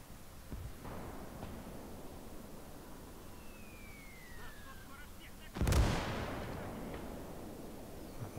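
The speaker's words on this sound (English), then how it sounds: "That mortar's still irritating." A mortar in the Gates of Hell strategy game on the Soviet front fires a single sharp, heavy blast midway, after faint distant rumbling and a brief whistling streak, with a lingering decaying tail.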